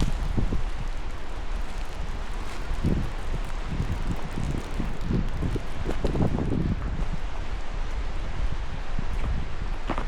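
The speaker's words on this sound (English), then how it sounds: "I'm not liking this wind." Cold wind blowing outdoors during a trip through flooded Arkansas, a continuous rough rushing roar buffeting the microphone with gusty swells, loud and close with no talk over it.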